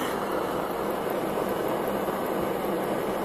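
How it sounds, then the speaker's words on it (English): A propane-powered Stirling engine driving a water pump and small DC generator runs steadily, giving a continuous, fairly loud mechanical whir and hiss with no change in pace and no talking. "The Stirling engine is powered by propane and it's optimized to run continuously using an onboard water pump and a small DC generator."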